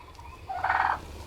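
A single short gobble from a domestic turkey tom kept for breeding with hens, fairly faint and brief against a low background hum.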